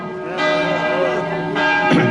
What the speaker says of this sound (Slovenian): Saj zvonovi sodijo zraven, ne?